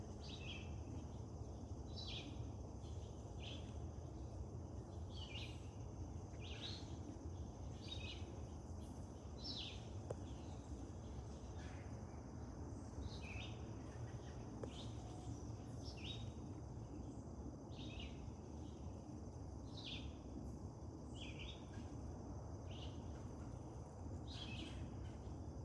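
Birds chirp in a forest, a faint, repeated series of short high calls at regular intervals over a soft, steady background hush.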